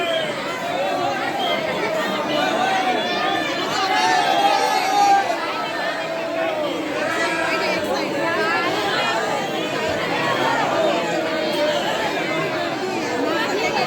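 Dense crowd chatter at Banke Bihari temple in Vrindavan, many voices blending into a continuous babble that stays busy and fairly loud throughout.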